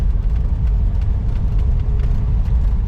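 A 1965 VW Beetle convertible on a foliage tour drives along with a steady low engine drone and road rumble, loud and continuous from inside the open car, with faint light rattles over the top.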